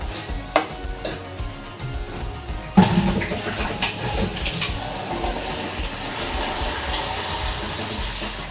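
Water pours steadily into a pan from about three seconds in, a continuous splashing hiss that fills the rest of the clip at moderate loudness.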